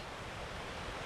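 A stream rushes steadily past a backcountry camp on a winter backpacking trip in Dolly Sods, making a dense, even wash of water noise with no breaks, fairly quiet and alone.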